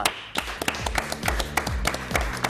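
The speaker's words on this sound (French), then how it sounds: "Merci de l'accueillir, de l'applaudir." Studio audience on a French regional TV evening show clapping to welcome a guest, a loose mix of individual hand claps with sharp slaps and low thumps, moderately close, with no talking over it.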